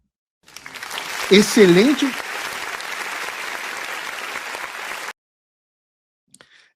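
Applause from a crowd comes close and loud for several seconds, with a voice briefly rising over it near the start, then it cuts off abruptly into silence.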